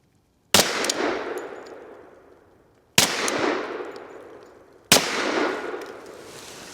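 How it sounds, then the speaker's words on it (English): Three loud gunshots from a 10mm FPC carbine, evenly spaced about two seconds apart, each a sharp crack trailing into a long fading echo, fired alone at close range. "let's shoot a couple rounds with the FPC and see where it's at on there"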